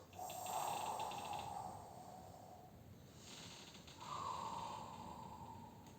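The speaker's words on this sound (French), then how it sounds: "Coordonne la respiration et creuse. Et souffle." An exercise instructor breathes out forcefully during a core workout: two long, breathy exhalations, each swelling and then fading over a couple of seconds, close to the microphone with no talking.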